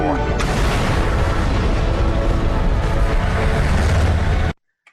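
A big explosion in the horror film Rare Exports, a loud sustained broadband roar and rumble lasting over four seconds before cutting off abruptly.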